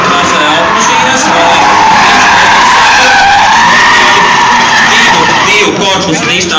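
Drift cars skid around a race track at a drift season finale, a loud continuous roar of tire squeal and engine noise near and sustained throughout.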